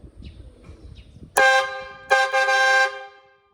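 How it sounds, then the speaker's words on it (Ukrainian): Vehicle horns honk in two loud, close blasts, the first about three-quarters of a second and the second about a second long, after quiet background murmur. "Оце так сигналять."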